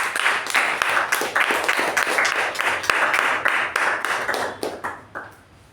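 A Toastmasters meeting audience claps to welcome the first speaker, a steady round of many hands clapping that holds strong before thinning out and fading near the end.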